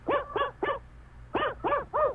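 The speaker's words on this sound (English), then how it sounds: "Sounded like Mr. Herman's bark." A dog barks six times in two quick bursts of three, fairly close and loud, with a short pause between the groups and no one talking.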